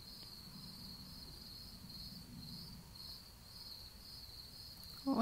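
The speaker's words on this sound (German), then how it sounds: "Also jetzt hier die Naturgeräusche" A steady, high-pitched chorus of crickets chirping continuously at moderate distance, with a faint low rumble underneath and a brief knock at the end.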